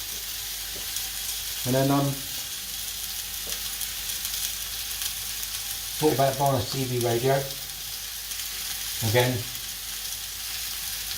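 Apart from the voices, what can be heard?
pork chops sizzling in a frying pan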